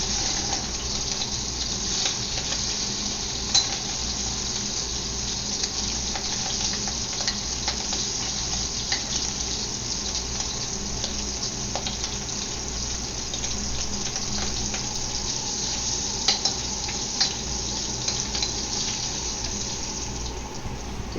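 Shrimp stir-frying in a hot pan for a Chinese seafood and tofu stir fry, giving a steady, dense sizzle throughout with occasional stirring clicks and scrapes, close and continuous with no talking.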